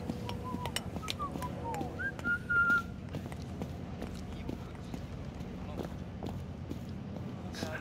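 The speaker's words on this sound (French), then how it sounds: "ne me demandez pas ce qui siffle. Je ne sais absolument pas." Whistling in the video game Indiana Jones and the Great Circle, a short thin rising whistle heard briefly amid clip-clopping hooves, footsteps and busy background game sounds.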